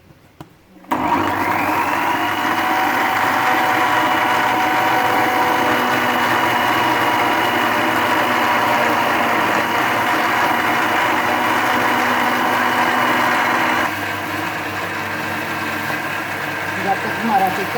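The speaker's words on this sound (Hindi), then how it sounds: "जब तक हमारा चिकन वो पुदीना और धनिया ग्राइंड हो रहा है" A kitchen mixer grinder whirs continuously at high speed as it grinds chicken with mint and coriander and a little water, a loud, steady motor whine that shifts slightly in tone near the end.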